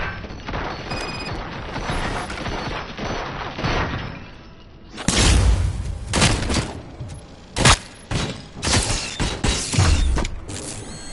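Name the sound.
gunfire in the video game RoboCop: Rogue City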